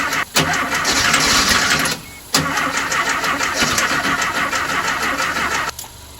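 A 1968 Porsche 912 engine with timing off cranks and catches, running rough and loud, cutting out briefly, then firing up again and running unevenly close by.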